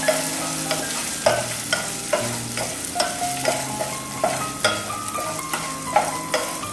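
Ginger and green chillies fry in a pan while a spoon stirs them, giving a steady sizzle broken by repeated scraping strokes and soft knocks at a regular pace, close and clear with no talking.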